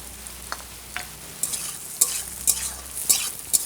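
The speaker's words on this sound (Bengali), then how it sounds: "পেঁয়াজটা আমি একটু লাল লাল করে ভেজে নেব।" Onions frying in a pan in a village kitchen, a soft continuous sizzle broken by regular scraping stirs of a spatula, close and moderately loud.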